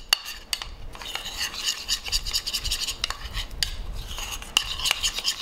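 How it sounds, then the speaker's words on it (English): Wax and paint are stirred together in a container, making close, soft rubbing and scraping strokes with irregular sharp ticks of a tool against the sides and no speech. "It's about a 3-to-1 ratio of wax to paint, and you're going to mix it all together."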